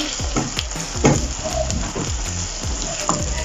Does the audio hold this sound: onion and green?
yes